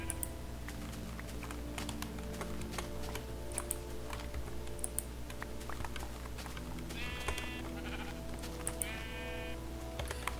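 Two short, synthetic sheep bleats from Minecraft sound over a constant background drone, accompanied by clattering computer keyboard typing and clicks throughout.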